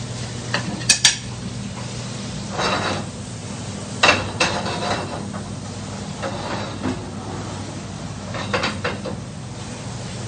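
Prawns being stir-fried in a pan, with intermittent metallic clatter and scraping of a utensil against the pan over a steady low hum, several distinct clinks spaced across the quiet stretch.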